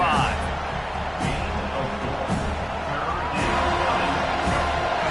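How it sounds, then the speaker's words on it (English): Football stadium crowd roaring for the defense on third down, a dense steady wash of cheering with a few sharp bangs, heard under continuous play-by-play commentary. "Decibels rising as the crowd gets behind this defense on third down."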